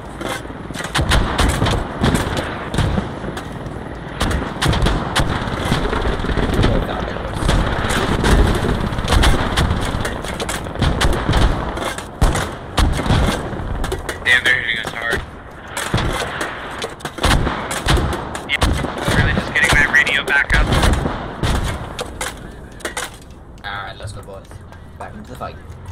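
Sustained gunfire from the video game Squad during a full invasion round, with sharp bursts, machine-gun rattles and heavier booms that fit mortar fire, loud and dense throughout, with people talking over it at times.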